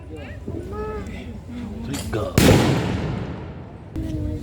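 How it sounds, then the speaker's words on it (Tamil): A stun grenade is thrown and detonates during a military demonstration at a defense expo, giving one sharp loud blast with a long fading rumble. It cuts through ongoing talk and background crowd noise. "உள்ளிருக்கும் மனிதனை நிலைக்குலைய செய்யும் கையெறி குண்டை வீசி வெடிக்க செய்கிறார்கள்"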